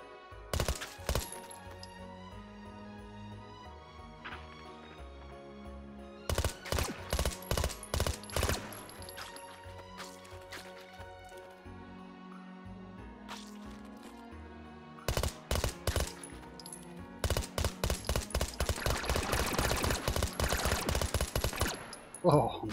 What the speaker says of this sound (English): I'm going to spawn about 18, since this is a submachine gun with lots of ammunition.